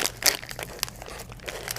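A plastic bag is opened with close, crisp crinkling and rustling in several quick bursts, with no talking.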